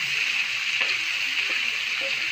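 Vegetables added to a frying pan of sizzling meat, a loud steady hiss of frying that holds constant throughout with faint stirring knocks, close up and without speech.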